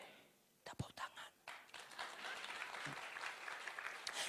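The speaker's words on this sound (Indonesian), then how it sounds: "Tepuk tangan." A church congregation breaks into applause after a few scattered, sharp claps, swelling into dense sustained clapping that stays loud to the end.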